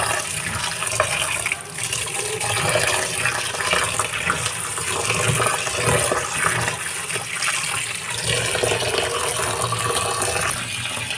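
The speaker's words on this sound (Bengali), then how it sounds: "তো এটা আমি ভালো করে ধুয়ে নেবো," Sago and rice grains washed in water for homemade baby cereal, a steady rush of running and sloshing water that continues unbroken throughout, close and fairly loud, with no talking.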